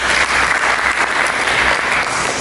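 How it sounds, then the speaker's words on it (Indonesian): A church congregation applauds together, a dense, steady burst of clapping filling the room throughout, loud and close. "Mari kita berikan tepuk tangan bagi Yesus Kristus."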